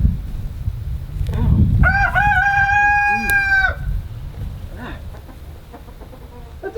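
A rooster crows once loud and close, a long drawn-out call in the middle, with rustling and low background noise around it and a few faint clucks afterward.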